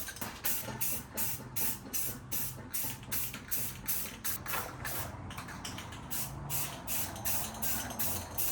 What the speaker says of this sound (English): we're gonna go ahead and spray this one more coat